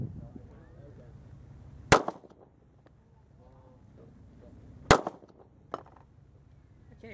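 Two sharp, loud revolver shots from a Model 10 fired at a target about 240 yards out, spaced about three seconds apart, each with a brief echo tail, over steady outdoor wind noise.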